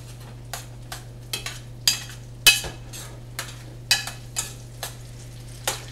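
Fried rice is stirred in a pan: a series of sharp, irregular scrapes and clinks of the utensil against the pan over a low sizzle and a steady background hum, with no talking.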